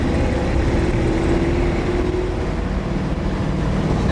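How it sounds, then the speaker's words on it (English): A steady, rumbling flathead engine idles and runs continuously, low and throaty, with no voices over it. "Nothing sounds like a flathead."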